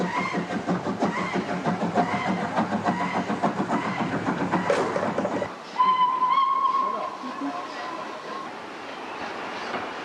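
Preserved steam locomotive Great Marquis at Bewdley station, being uncoupled before returning to Kidderminster: a steady mechanical rumble with rhythmic chuffing gives way to a sustained whistle-like tone, moderately loud and close.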